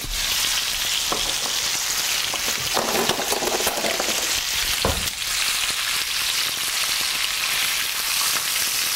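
Goat meat for curry searing in a hot pan, a loud, continuous sizzle and crackle close by, with a few thumps as the pieces are turned, no talking.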